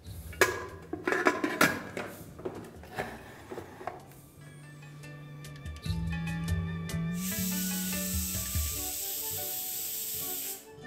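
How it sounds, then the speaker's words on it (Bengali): Pressure cooker on the stove cooking dal for a Bengali lunch, building to a loud, steady high hissing whistle in the second half after quieter clattering and kitchen sounds, with no talking. "আর ভালো করে মেশানো হয়ে গেলে ঢাকা দিয়ে এটার 2টো সিটি মেরে নিন।"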